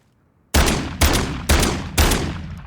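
Gunfire from a Call of Duty: Modern Warfare III weapon: after a moment of silence, four loud, close, evenly spaced shots about half a second apart, each booming and trailing off before the next.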